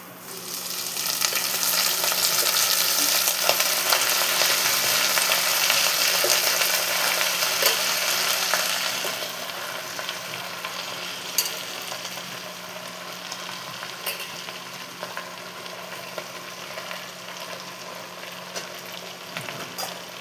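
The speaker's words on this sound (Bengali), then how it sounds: "দিয়ে এটাকে ভালো মতো ভেজে নিতে হবে।" Green chillies and chopped kochu greens fry in a pan, giving a steady loud sizzle that eases to a quieter, crackling simmer partway through, with no voices.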